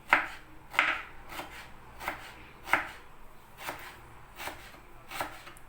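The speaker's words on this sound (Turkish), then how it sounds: "Öncelikle ben 5 adet mor soğanları böyle yarım ay şeklinde doğruyorum." Steady knife chopping on a board, about a dozen crisp cuts in an even rhythm, close and clear with no talking.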